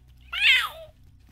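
A man imitates a cat with one drawn-out meow, close and fairly loud, rising and then falling in pitch over about half a second.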